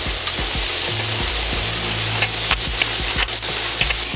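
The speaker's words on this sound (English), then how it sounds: "So the breast is cooking up nice." Chicken breast sizzles and fries steadily on a hot steel griddle, a loud continuous crackle with occasional scraping or stirring taps from a utensil, no talking.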